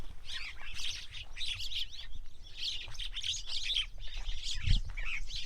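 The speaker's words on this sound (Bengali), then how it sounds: "অসংখ্য শালিক পাখি এই যে এখানে দেখতে পাচ্ছ এর মধ্যে কিন্তু বাচ্চাও আছে" Many common mynas chirp and chatter continuously around nest holes dug into earthen banks on a river char, with chicks inside, a dense overlapping chorus of calls with no one speaking.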